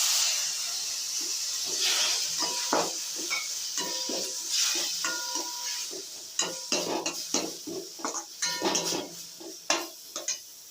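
Tamarind water poured into frying onions and chili powder in a pan sets off a hissing sizzle, with repeated metallic clanks and scrapes of a spoon stirring against the pot, growing louder and busier toward the end.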